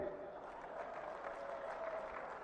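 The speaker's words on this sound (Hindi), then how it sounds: "जोर से ताली बजाओ भाई भूमिका के लिए" Faint, steady applause from a distant crowd at an outdoor political rally in Bareilly, India, soft and continuous, with voices mixed in underneath.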